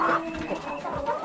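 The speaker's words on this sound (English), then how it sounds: "There's a variety of chickens in here" Several chickens of mixed breeds, including Dominique and Barred Rock hens, clucking together in a coop, a steady close chorus of overlapping clucks.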